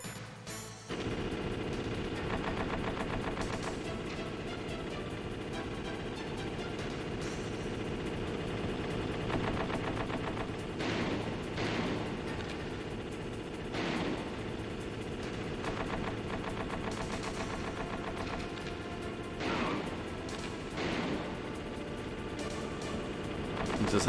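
Sustained machine gun fire from a gunner in the video game Metal Gear Solid rattles on steadily for over twenty seconds at moderate loudness, with occasional louder bursts and no talk.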